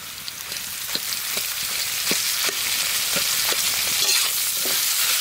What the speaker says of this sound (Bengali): পেঁয়াজ রসুন কাঁচা লঙ্কা চিংড়ি মাছ বাটা এখন দিয়ে দেবো